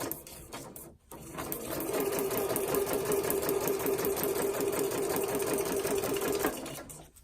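A sewing machine stitches fabric, speeding up into a steady, close mechanical whirr that holds for several seconds before slowing and stopping, with no talking over it.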